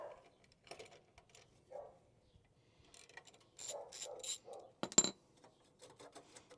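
An 8mm socket ratchet works the heat shield clamps on the exhaust of a 2024 Harley-Davidson Road Glide CVO ST, producing faint, scattered bursts of quick metallic clicking and light clinks close by.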